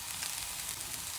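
Shiitake mushrooms sizzle steadily in a hot pan as they are stir-fried, a dense, continuous crackling hiss with no talk.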